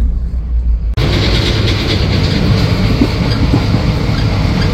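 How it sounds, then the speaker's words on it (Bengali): Haldibari Tri-Weekly Intercity SF Express running between Kolkata and NJP, a loud close rumble with rhythmic wheel clatter that starts abruptly and continues steadily. "একটু ট্রেন স্লো হয়ে গেল।"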